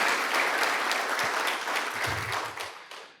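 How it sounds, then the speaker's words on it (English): An audience at a community bushfire recovery forum gives a warm round of applause, many hands clapping steadily before it tapers off at the end. "I think it deserves a round of applause."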